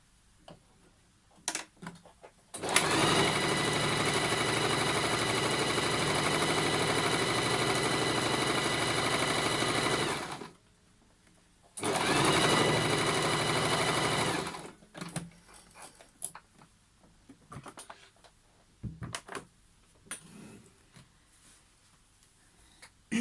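Sewing machine stitching a fabric pouch, a loud continuous mechanical whir running for about seven seconds, stopping briefly, then running again for a few seconds, with scattered handling clicks before and after.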